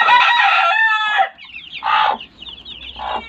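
Chickens with young chicks cluck and call close by, one long drawn-out call followed by shorter clucks and faint peeping in between.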